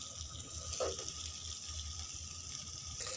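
Water poured into spiced potato curry cooking with masala in a pan, a short gushing splash over a steady low kitchen hum.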